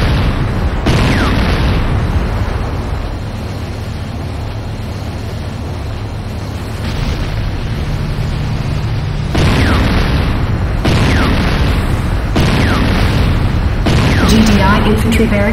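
Repeated heavy booms and blasts as a GDI Tiberium Refinery and other base structures are destroyed in Renegade, the Command & Conquer shooter, loud sustained explosions recurring every few seconds with rumbling tails and a faint voice in the mix.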